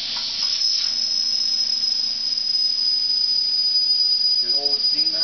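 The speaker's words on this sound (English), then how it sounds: "We let the steam go." Steam hisses steadily from a pressure cooker holding eight jars of tomato sauce, a loud, continuous rush with a sharp high whistle running throughout, and a voice speaks briefly near the end.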